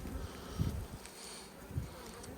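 Honeybees buzzing at an open hive during a spring colony inspection, a soft steady drone with a few louder passes as bees fly close to the microphone.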